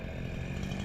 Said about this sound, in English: I've been fighting my chainsaw for 2 hours now.